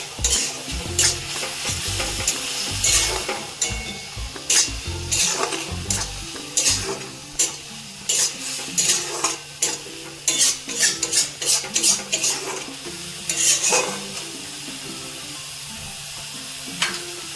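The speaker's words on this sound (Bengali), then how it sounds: "এটা একদম ভাজা ভাজা হয়ে গেলে তারপর বেগুন দিব।" Spices, coriander and grated coconut fry in a pan while being stirred, giving a continuous sizzle cut by many sharp scraping and clinking strokes of a utensil against the pan, close and fairly loud.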